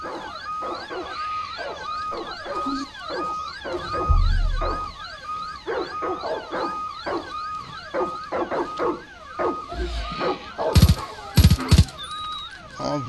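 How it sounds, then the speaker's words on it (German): Dogs bark repeatedly in Far Cry 5, a run of rhythmic barks and whimpers layered over other busy game sounds, with a few heavy thumps and clatters near the end. "Wir müssen Hunde töten."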